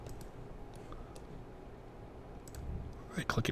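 Computer mouse clicks while working in TinkerCAD: scattered light, close clicks, then a denser cluster near the end, under quiet talking.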